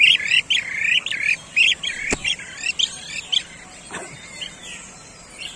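A tame kirik-kirik bird, a bee-eater kept and hand-trained, gives a rapid string of shrill, squawky chirping calls close by, with a sharp click partway through and quieter calls trailing off.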